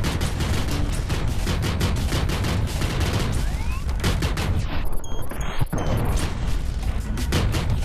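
Dense, rapid gunfire from a weapon in the VR shooter Space Pirate Trainer, firing in continuous loud bursts with a brief lull midway, alone without talk.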